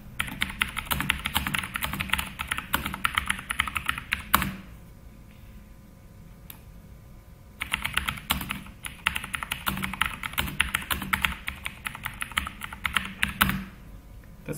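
Rapid typing on a computer keyboard while writing a paragraph in a text editor, close and fairly quiet, in two long bursts of dense key clicks separated by a pause of about three seconds.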